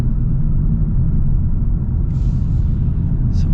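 A 2025 Hyundai Elantra N accelerating hard in N mode gives off a loud, steady low engine rumble from inside the cabin, with a brief higher whine near the end and no speech.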